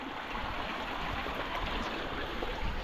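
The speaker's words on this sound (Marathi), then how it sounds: "पाऊस झाल्यामुळं गडावरून पाण्याचे स्रोत सुरू झाले आहेत." Monsoon rainwater running down from Tikona Fort in Maharashtra makes a soft, continuous rushing and trickling, faint and steady with no voices.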